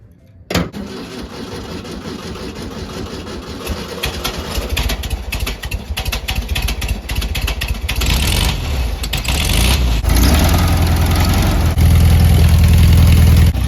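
A classic air-cooled Volkswagen engine fires up after a valve adjustment and oil change and settles into a loud, steady idle around 900 rpm, heard up close with its even, throbbing rhythm growing slightly fuller toward the end.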